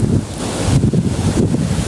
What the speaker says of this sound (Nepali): बहुत धेरै हावा चलेको छ